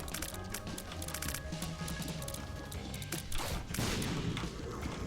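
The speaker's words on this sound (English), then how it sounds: "Glad that explosion didn't hit me." Explosions go off in The Binding of Isaac: Afterbirth, a burst of rapid crackling blasts over busy game sound, with a heavier boom swelling near the end.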